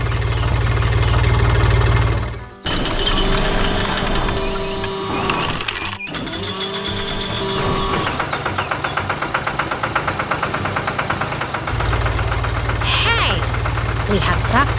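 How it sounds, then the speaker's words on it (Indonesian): Blue tractor engine in a cartoon animation working hard in a cheerful flower garden on a farm, a steady low mechanical drone with knocking, loud at the start, interrupted by music and effects, then returning near the end. "Lihat traktor biru yang sedang bekerja keras di tengah kebun bunga yang ceria"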